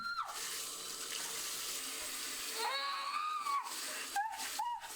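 Shower tap water runs steadily during a child's hair washing at home, a broad hiss that continues throughout, with a young voice crying out over it near the end.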